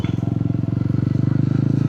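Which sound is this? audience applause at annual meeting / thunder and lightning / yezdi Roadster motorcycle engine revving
yezdi Roadster motorcycle engine revving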